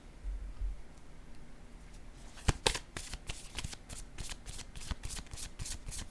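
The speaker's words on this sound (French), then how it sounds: "je vais piger une autre carte ici." Cards being drawn and handled from a deck during a card reading, a quiet rustle at first, then a run of crisp flicking and riffling snaps close by, with no talking.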